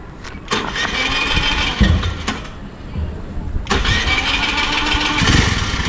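A newly bought vehicle's engine starts with sharp cranking bursts, catches and then settles into a steady running hum close by, with people talking over it.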